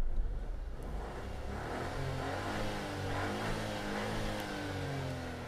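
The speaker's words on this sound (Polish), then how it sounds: "Bardzo lubię wysokie obroty w tym silniku, bo on naprawdę ma takie mimo wszystko dość rasowe brzmienie, ale harmonijne." A 2018 Dacia Sandero Stepway with a 0.9-litre 90 hp petrol engine revs up steadily and holds high revs, a smooth, sustained drone with rising harmonics, close and alone without talk.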